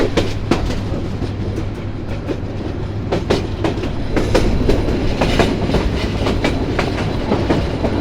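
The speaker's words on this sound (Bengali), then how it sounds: "ওই যে আমাদের ট্রেন বাঁক দিচ্ছে।" Paharika Express train running on rails through tea garden country, a loud continuous rumble with rhythmic clickety-clack wheel beats close by, steady throughout with no talk.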